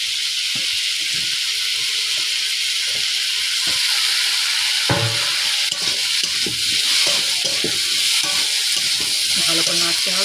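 Tomato and eggplant frying in a pan for a rustic village-style crab dish, a loud, continuous sizzle and hiss with intermittent scraping and stirring knocks throughout.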